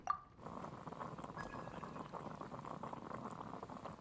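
Water boils in the video game Genshin Impact, a steady, faint bubbling churn that starts after a short clink and carries on evenly to the end, with no speech.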